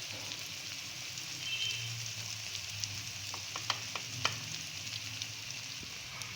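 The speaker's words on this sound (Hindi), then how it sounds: "अब इसको अच्छे से हम इसमें फ्राई करते हैं ताकि हमारे टमाटर सॉफ्ट हो जाएं" Chopped tomatoes frying in a pan for a kidney bean curry, a soft continuous sizzle with a few light spoon clicks near the middle, quiet and close, no one speaking.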